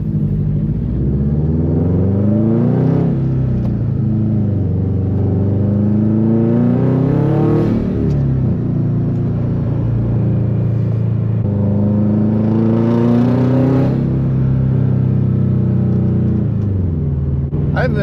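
A Subaru WRX STI engine runs steadily while driving, rising and falling in pitch as it accelerates and shifts, loud and close throughout with no talk.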